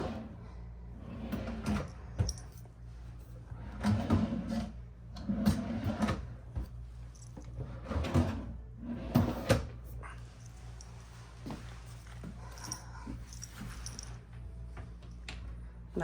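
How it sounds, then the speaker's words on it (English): Drawers of a chest of drawers in a Disney Vacation Club cabin being pulled open and pushed shut, several wooden slides and thumps in irregular bursts over a low steady room hum. "And got your chest of drawers here."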